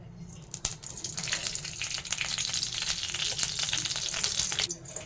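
Steady sizzling of ghee in a wok with a few clinks and stirring noises, continuous and fairly close.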